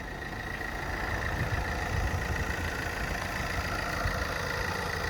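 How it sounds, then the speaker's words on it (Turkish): An Alfa Romeo car engine idling, a steady close rumble with an even, slightly rough texture throughout, unbroken and fairly loud. "Aracın motoru dediğim gibi biraz daha sesli diğer araçlara göre."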